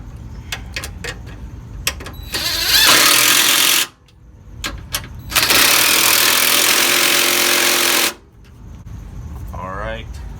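An impact wrench drives bolts home on a 2017 Ford Escape rear tailpipe exhaust mount, two loud hammering bursts of a few seconds each, close up, separated by brief clicks and a short pause, with a little voice at the end.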